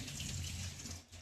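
Water poured into a kadhai (wok) with rice for cooking, two glasses' worth, a steady close gushing pour lasting about a second before tapering off, with no talk.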